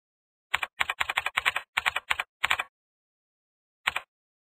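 Someone types on a computer keyboard, close and crisp. A rapid run of separate clicks is followed by a pause and then one lone keystroke, with silence between.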